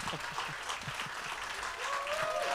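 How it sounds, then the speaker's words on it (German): A crowd in a Cologne beer garden claps at an outdoor live event, a moderate wash of applause at a distance, with some voices and a brief whistle-like tone toward the end. "wenn ihr jetzt einen längeren Applaus machen würdet"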